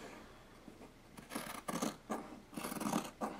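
Scissors snipping around fabric pieces for a Waldorf doll, a quarter inch from the marked lines: several close, crisp rasping cuts in short bursts after a quiet start.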